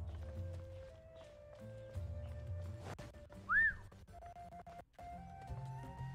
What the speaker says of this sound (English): And don't mind me whistling every now and then.